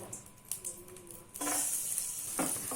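Quiet kitchen clatter gives way to a loud, steady sizzle of chopped garlic frying in butter in a pan, close by, with a brief stirring scrape near the end.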